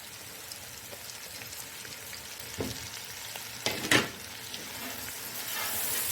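Peas, capsicum, potato and carrot frying in a pan for Chinese rice, giving a steady soft sizzle with a few louder crackles and stirring noises near the middle, with no talk.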